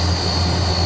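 An AN-32 military transport aircraft landing on an expressway airstrip during an air show, heard as a loud, steady propeller-engine drone with a constant hum throughout.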